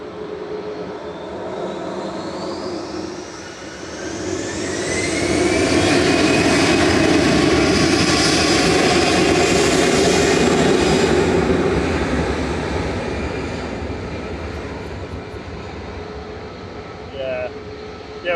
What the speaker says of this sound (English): Lufthansa 2501 to Munich going now, A320 Classic DAIUB